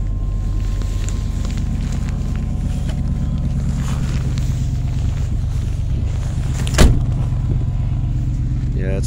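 A 1995 Chevrolet G20 van with a 5.7 V8 idling just after a cold start in cold weather, a loud, steady low rumble heard close up with wind buffeting and a brief thump partway through.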